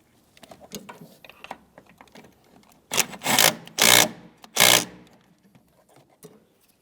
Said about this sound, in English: we can tighten that fitting.